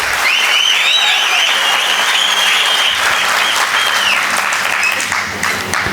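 A large audience applauds loudly at a tribute event for the actor Vishnuvardhan. The clapping is dense and unbroken for several seconds, close and full, with whistles and cheers rising above it.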